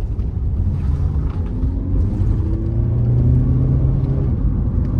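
A 2018 Volkswagen Caddy 2.0 with an automatic gearbox drives on the road, giving a steady, loud interior engine drone and road rumble whose pitch climbs smoothly as the van accelerates.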